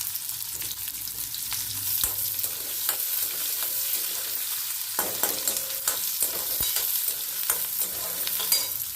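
Onions sautéing in a pan for sundakkai thokku, with a steady close sizzle and frequent scraping stirs of a spoon across the pan throughout, no talking.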